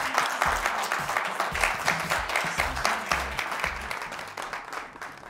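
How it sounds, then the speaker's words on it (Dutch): Audience applause at a live illusionist stage show, a dense wash of clapping with pulsing low thumps of music underneath, gradually easing toward the end. "Geef een applaus."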